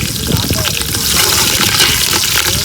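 Red chillies fry and pop in hot oil in a pan, a dense, steady sizzle with sharp crackles scattered throughout, loud and close with no talking.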